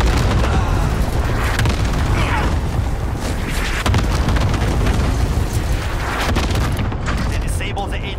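Air strike explosions rumble in Call of Duty: Modern Warfare, heavy booms layered over constant gunfire and battle noise, loud and dense, with voices under the din.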